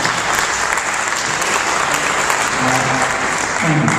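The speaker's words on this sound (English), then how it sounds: "Have some applause." Audience applause for Sylvia Israel at a community program gathering, steady dense clapping from a full room that holds at an even level for the whole stretch, with faint voices briefly rising near the end.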